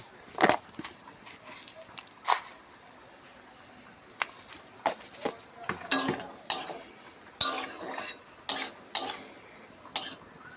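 A spoon stirs okra and potato curry with onion in a pan, giving irregular close clinks and scrapes against the metal, sparse at first and then coming in quicker bursts.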